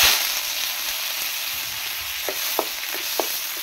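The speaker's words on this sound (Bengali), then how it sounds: "কাজু কিশমিশটা ভেজে নিচ্ছি।" Cashews and raisins frying in a pan for homemade chanachur snack mix, a steady close sizzle with a few light pops and clicks near the end, no voices.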